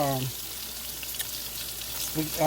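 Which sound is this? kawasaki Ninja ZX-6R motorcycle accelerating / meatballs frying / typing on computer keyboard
meatballs frying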